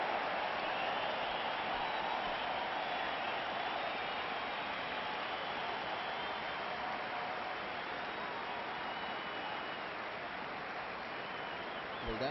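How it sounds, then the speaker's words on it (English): A cricket crowd cheers and applauds in a stadium after a 100 mph delivery by fast bowler Shoaib Akhtar, a steady, dense roar of clapping and voices holding throughout. "Cheer from the crowd."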